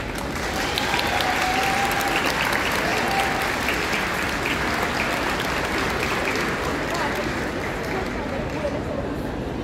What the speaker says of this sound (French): merci pour vos applaudissements chaleureux